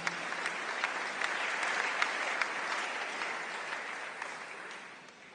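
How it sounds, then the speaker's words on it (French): A church congregation applauds in a steady, dense round of clapping from many hands that fills the room and fades slightly near the end. "Acclamons le Seigneur."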